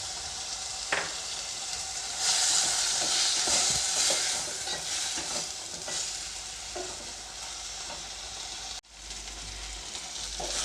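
Vegetables for pasta roast in a hot pan, a loud continuous sizzle with stirring scrapes running throughout, close up and unbroken by speech, briefly dipping near the end before resuming.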